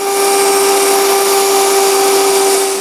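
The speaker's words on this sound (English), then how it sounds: "I can throw that on the grinder" Grinder trimming a hydraulic cylinder part from a Massey Ferguson tractor, a loud steady high whine with a strong constant tone, running alone without pause.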